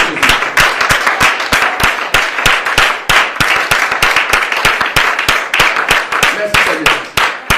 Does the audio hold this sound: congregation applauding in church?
yes